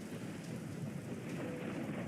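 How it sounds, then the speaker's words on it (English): Heavy storm rain pours steadily with low thunder rumbling beneath it in the video game Fate/Grand Order, a dense, continuous wash of sound with no voices. "A storm? Whoa, you're right. It started raining like crazy."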